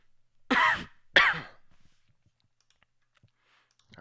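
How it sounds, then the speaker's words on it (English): Two sharp, close coughs come about half a second apart, followed by near silence with faint clicks. "I really hope you can't hear my coughs."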